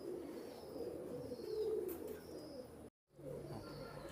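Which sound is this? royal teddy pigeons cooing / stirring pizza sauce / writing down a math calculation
royal teddy pigeons cooing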